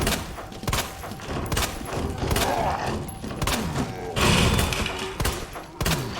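Gunfire in Resident Evil 2 from Leon's weapons: repeated sharp shots at irregular intervals, loud and close, with thuds between and occasional speech over the top.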